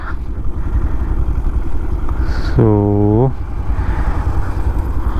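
Yamaha FZS V3 motorcycle cruising along a road on the Mumbai to Kasara ride, its engine drone steady under rushing wind, broken midway by a short, loud, horn-like tone. A voice speaks briefly.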